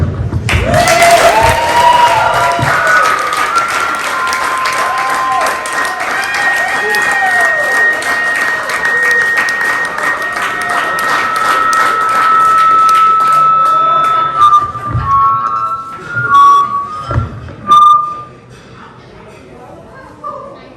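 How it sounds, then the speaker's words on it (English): Crowd applause and cheering break out at a Kentucky Wildcats (Big Blue) college signing ceremony, dense sustained clapping with whoops over several seconds before thinning into scattered claps and voices near the end. "Big round of applause"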